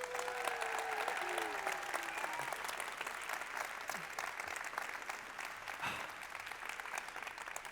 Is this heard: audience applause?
yes